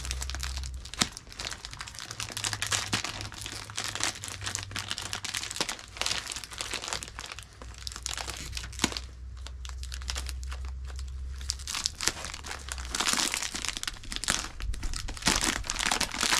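Taped-up packaging is crumpled and torn close by, a continuous stream of crinkling plastic and paper with sharp ripping bursts, fairly quiet and with no talking.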